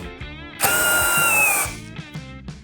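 A Procraft Industrial CD20B cordless drill driver runs in first speed: one loud, close whirring burst of about a second that starts and stops abruptly. Quiet mechanical clicks come before and after it.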